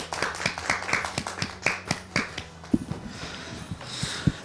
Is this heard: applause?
yes